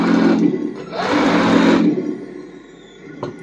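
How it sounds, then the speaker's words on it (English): A Heng Long 1/16 M4A3 Sherman RC tank runs with a steady whirring motor drone that surges louder midway, then eases off near the end. "So there you go. Fully working tank. I'm going to turn it off, just for the noise."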